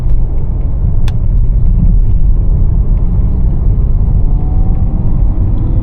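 A BMW E39 523i's engine hums steadily from inside the cabin while driving, a continuous low rumble and road roar that holds level throughout with a faint rising whine.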